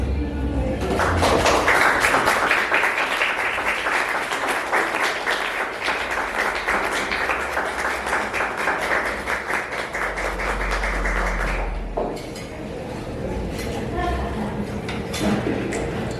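An audience at a live literary storytelling event claps loudly for a writer, a dense, sustained burst of applause lasting about ten seconds before it fades and a voice speaks.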